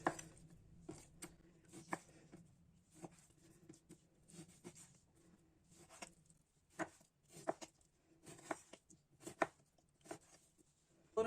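Lamb meat being cut into fairly large pieces for a güveç casserole, a knife striking a board in irregular, close thuds with brief pauses, fairly quiet with no talking.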